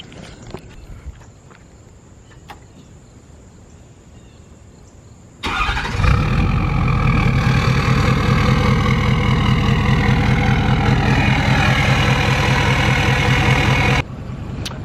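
A Ford 6.7 Powerstroke diesel truck engine starts abruptly after a quiet stretch, then idles with a loud, steady low clatter and hum before cutting off sharply near the end.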